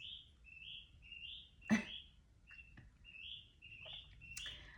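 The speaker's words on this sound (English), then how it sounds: "The birds." Birds chirp outside on a warm day, faint and somewhat distant, in repeated short high tweets with a single sharp click partway through.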